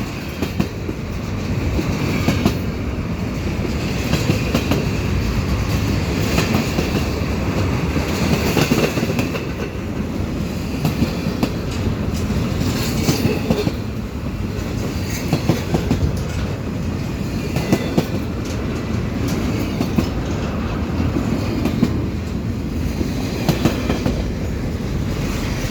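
A CP mixed freight train, mostly empty cars, rolls westbound close by at Valois, Canada, with a sustained loud rumble and rhythmic clickety-clack of wheels over rail joints continuing steadily throughout, no voices.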